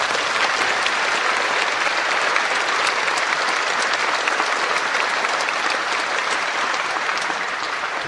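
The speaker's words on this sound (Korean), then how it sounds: "격려의 박수 한번 부탁드립니다." Large church congregation at a Korean Holiness denomination anniversary worship and general assembly installation service gives sustained, even applause, a dense continuous roar of many hands clapping with no break.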